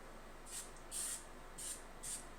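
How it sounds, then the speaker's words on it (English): Four short hissing bursts of cooking spray misting onto chicken, close and fairly soft, spaced about half a second apart. "give them a little spray with some cooking spray. So give them a little mist of that."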